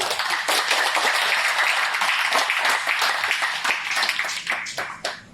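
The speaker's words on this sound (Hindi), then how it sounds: "एक ताली रतन टाटा जी की लिए।" Audience clapping briskly and loudly for about five seconds, many hands at once, then thinning out toward individual claps near the end.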